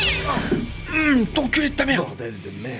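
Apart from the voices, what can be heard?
cat meowing in the video game The Devil in Me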